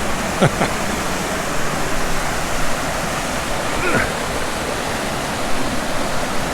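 River flowing near a bridge on a countryside hike, a loud, steady broadband rush of water that fills the whole scene without pause.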